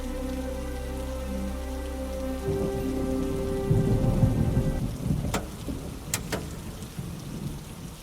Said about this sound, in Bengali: উফ, কি সাংঘাতিক ঝড় উঠেছে